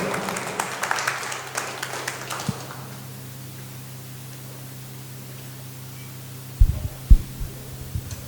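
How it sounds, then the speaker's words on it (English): A church congregation in Shillong applauds briefly as a pastor takes the stage; the clapping fades within a few seconds into a low, steady electrical hum with a couple of faint thumps. "Let us all give him a big round of applause."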